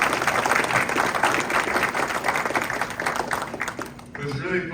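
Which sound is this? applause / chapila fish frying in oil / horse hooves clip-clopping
applause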